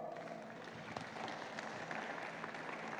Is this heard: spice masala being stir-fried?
no